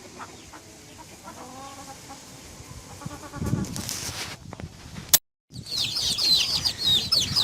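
Chickens and their chicks cluck and peep while being fed chopped squash and onions, scattered calls over rustling, with a brief dropout and then a busier burst of chirping near the end.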